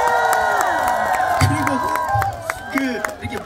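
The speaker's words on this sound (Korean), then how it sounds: "우리 형님들도 굉장히 박수 열심히 쳐주시네요" Concert crowd at an outdoor family concert clapping and cheering, with whoops and shouts over steady applause while musical tones ring underneath and voices call out.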